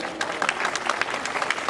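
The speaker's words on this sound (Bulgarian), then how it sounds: "Бурни аплодисменти за Андрей Ковачев" A rally crowd of GERB supporters in Vratsa claps, producing brisk, dense applause that carries at moderate volume through the whole moment.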